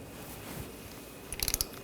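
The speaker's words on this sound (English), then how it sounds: "we're going to torque this to 13 foot-pounds" A torque wrench tightens a brake caliper bolt on a 2014-2020 Nissan Rogue, a quick burst of about five sharp ratcheting clicks after a quiet stretch, close by.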